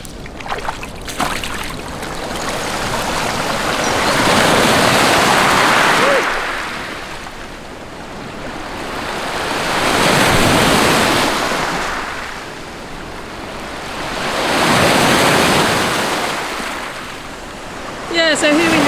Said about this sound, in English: We're about to get some waves.